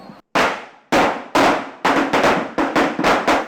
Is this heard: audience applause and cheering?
no